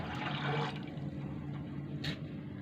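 Water pouring steadily into a cooking pot holding dried fava beans in a home kitchen, a continuous moderately loud splashing fill with a brief brighter gush near the end, no talking.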